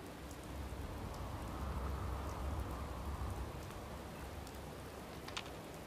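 Rain falls in Fallout 4 as a steady, soft hiss of drops, even and continuous, with no voices over it.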